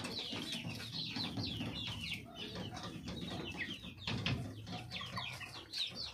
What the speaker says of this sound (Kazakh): Мына тауықтар да сатылады.